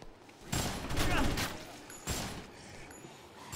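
Gunfire in the video game Dead Rising, two loud close bursts of shots about a second and a half apart, with a voice talking over them.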